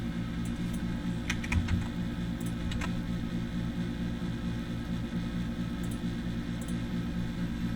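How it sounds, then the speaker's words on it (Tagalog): Keystrokes on a computer keyboard as a password is entered, a few quick soft clicks in short bursts over a steady electrical hum, fairly close, with no talking. "i-type nyo lang yung username nyo, ito, and then sunod yung password"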